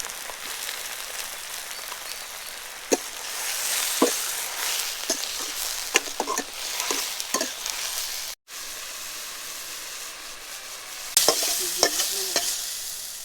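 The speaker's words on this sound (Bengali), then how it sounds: "এখন আমরা দিয়ে দিচ্ছি চিংড়ি মাছ ভাজার তেলের মধ্যে দিয়ে দিচ্ছি মৌলবী কচুর পাতাটা।" Taro leaves fry in oil left over from frying shrimp, producing a bright continuous sizzle with intermittent stirring scrapes and taps, a brief dropout near the middle, then renewed crackling and knocks at the end.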